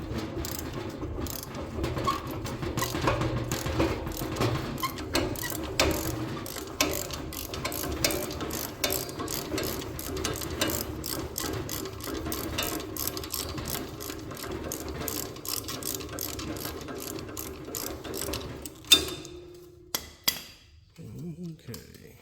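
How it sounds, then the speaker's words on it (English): Wrenches rattle and click quickly while loosening bolts on the tines of a Troy-Bilt Horse tiller, a dense run of metallic ratcheting close up, ending with a few scattered clanks. "Might have to get a wrench on this one."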